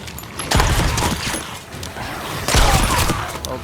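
Ship cannon fire in Sea of Thieves: two heavy, booming shots about two seconds apart, each a deep thump with crashing, creaking mechanical clatter around it.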